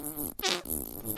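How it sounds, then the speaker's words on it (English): A human fart rips out in a wet, sputtering burst, then a second fluttering blast follows after a brief gap, close and fairly loud. "he was dropping a different kind of fart"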